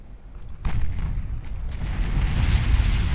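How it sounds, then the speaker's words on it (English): Battleship's four gun turrets firing a salvo in the naval game Ultimate Admiral Dreadnoughts, a heavy booming blast followed by a sustained deep rolling rumble that swells louder toward the end, no speech. "Yep, all 4 turrets firing now."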